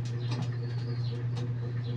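Pigeons kept in a backyard loft cooing: a low, steady coo close by over two seconds, alone, with faint background chirps.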